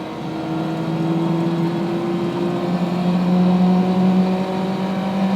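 A Honda S600 coupe engine revving near 5,000 RPM in third gear at about 35, a loud, steady, high-pitched buzzing wail that rises slightly as it pulls, heard close with no talking.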